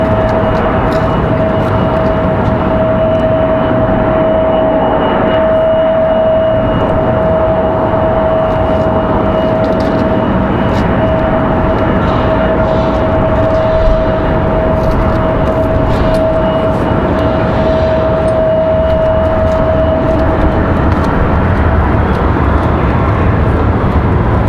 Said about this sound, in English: Beautiful lighting for this Southwest Max 8 departure.